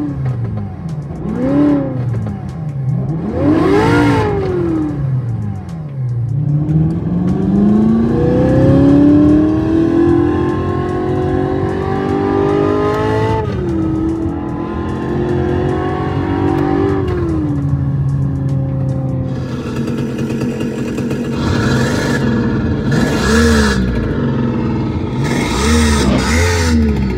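Simulated car exhaust from an OBD2 app played through a car's speakers, with loud revving engine notes rising and falling in repeated sweeps, some long climbing pulls and short blips, alone without talk.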